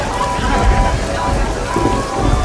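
Heavy rain pours in a dense, continuous hiss of drops on surfaces, loud and close throughout, with a low rumble underneath.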